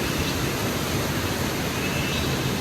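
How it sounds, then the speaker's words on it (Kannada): Water rushes steadily from Irpu waterfall near Brahmagiri in Coorg, a dense continuous roar with no voices and no breaks throughout. "ಫಾಲ್ಸ್ ಅಲ್ಲಿಂದ ಹರ್ಕ ಬರ್ತಾ ಐತೆ"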